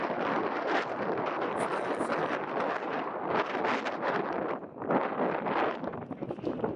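Strong wind on the Lena River roars and buffets the microphone continuously, a loud rumbling rush with gusty surges and no voices.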